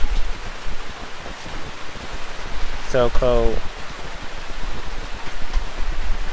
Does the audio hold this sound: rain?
yes